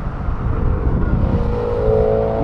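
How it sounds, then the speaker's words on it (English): A BMW M3 drives past while leaving a tuner car show at Silverstone, its engine a steady, close, broadband roar with rising harmonic tones as it accelerates toward the end, without speech. "The BMW M3."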